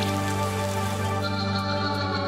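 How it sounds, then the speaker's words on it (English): Steady hiss of rain from an acid tempest spell in a fantasy video game, a dense continuous patter layered over sustained tonal music or ambience, loud and even throughout. "A little bit of acid tempest."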